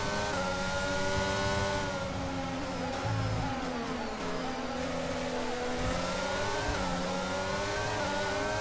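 Formula 1 cars in the F1 22 racing game, including both Ferraris, race wheel to wheel. Engines scream loud and steady throughout, with pitch rising and falling as the cars shift gears in close battle.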